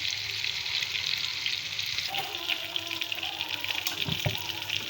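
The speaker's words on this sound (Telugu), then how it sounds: "ఇలా రెండు వైపులకి తిరిగేసుకోవాలి నేను. మళ్ళీ 5 నిమిషాలు ఫ్రై అనిద్దాం." Fish pieces frying in a pan, an even close sizzle with a faint watery bubbling edge and a couple of brief utensil knocks near the end, no voices.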